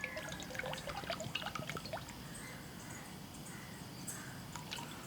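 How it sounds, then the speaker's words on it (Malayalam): Coconut oil trickling and dripping into a frying pan while making a banana evening snack, a soft, thin liquid pour with small scattered drips, fairly faint and without talk. "അപ്പോൾ വെളിച്ചെണ്ണ ഒഴിക്കുകയാണേ."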